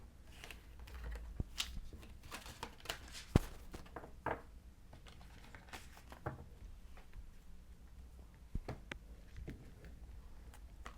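A tarot deck is shuffled for a reading, with soft, quick card flutters and taps close by, irregular and quiet, with the odd sharper knock and no voices.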